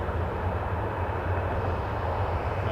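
WestJet airliner at Toronto Pearson Airport, a steady low jet engine roar, broad and continuous, heard from a distance without talk.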